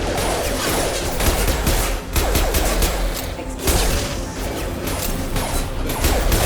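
Loud, dense gunfire from the video game Mass Effect 2 Legendary Edition rattles in sustained bursts with only brief dips, heavy and close with no voices over it.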